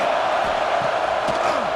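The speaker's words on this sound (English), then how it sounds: "this crowd is fired up. Listen to this noise here." A loud stadium crowd roars in EA Sports College Football 26, a dense, sustained wash of cheering that fills the scene while a play-by-play commentator speaks over it.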